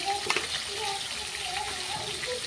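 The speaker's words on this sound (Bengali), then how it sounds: "মাছগুলো আমি ভেজে নেবো।" Small fresh fish frying in oil in a pan, a quiet steady sizzle with faint clinks, while a voice speaks softly over it.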